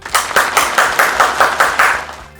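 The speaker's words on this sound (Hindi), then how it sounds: "अब वक्त है कि हम खुदावंद के ममसू बिशप जॉनथन को अपनी तालियों में खुशामदीद कहते हैं कि वो आज का पैगाम हम तक पहुंचा सकें।" Audience applause welcoming a bishop to the stage, a short burst of loud, rhythmic, evenly spaced clapping, close and alone.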